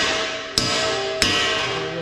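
A hammer knocks cut pieces off a conveyor screw shaft in a workshop, two sharp metallic blows about half a second apart over a steady loud machine hum.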